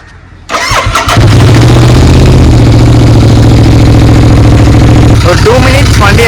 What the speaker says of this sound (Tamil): வண்டி இப்போ ஸ்டார்ட் பண்ணிடுங்க